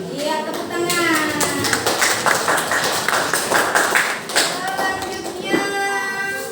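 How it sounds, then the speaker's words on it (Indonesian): Students in a classroom clap their hands in a dense, rapid patter that mixes with lively voices chanting or calling out together, close and fairly loud throughout. "Iya, tepuk tangan."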